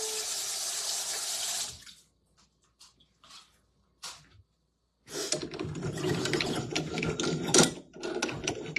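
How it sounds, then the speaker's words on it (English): Water runs from a kitchen tap during handwashing, a steady splashing stream that stops, leaves a few quiet clinks and rustles, then gushes back on and keeps pouring. "Wash my hands."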